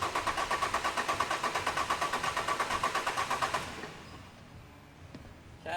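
An engine cranking on the starter during a relative compression and crankcase blow-by test gives a rhythmic, evenly pulsing whir for about three and a half seconds, then stops, leaving faint room noise and a small click.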